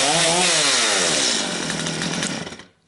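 A Stihl two-stroke chainsaw with a 14-inch bar roars close up at high revs, its pitch sweeping as the throttle varies, then winds down and cuts off abruptly near the end.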